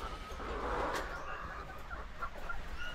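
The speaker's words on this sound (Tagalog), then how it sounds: "Ayan, 4 months old na manok." Four-month-old laying hens kept in cages, three to a cage on layer feed, cluck and murmur steadily at close range, with a brief louder squawk near the start over a constant farmyard background.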